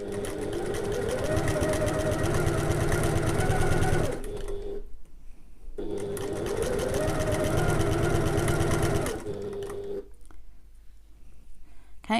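A sewing machine stitches mesh and elastic onto a tote bag, running in two steady whirring bursts of about four seconds each, close and loud, with quiet pauses between them.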